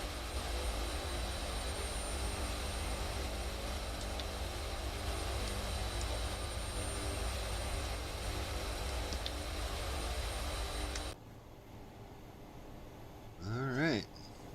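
Hercules transport aircraft engine in a flight simulator game, a steady loud droning roar for about eleven seconds that abruptly cuts to a quieter hum, followed by a brief rising whine near the end.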